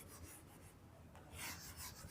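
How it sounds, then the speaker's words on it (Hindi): A whiteboard or blackboard being erased with quick back-and-forth rubbing strokes, close and fairly faint, growing louder toward the end with no voices. "इस साइड वाला पार्ट को मैं रब कर देता हूं ताकि वो इस साइड लिख सकूं"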